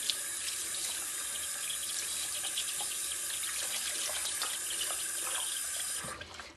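Water runs steadily from a bathroom tap into a sink, a constant close hiss and splash that stops abruptly near the end, with no voices.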